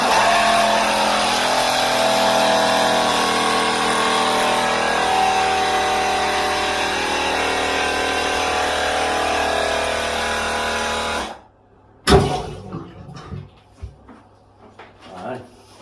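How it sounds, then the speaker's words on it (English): A Milwaukee drain cleaner machine runs continuously while clearing a blocked shower drain, a loud steady motor whir for about eleven seconds that cuts off abruptly, followed by a clunk and scattered handling noises nearby. "So that is our Milwaukee drain cleaner."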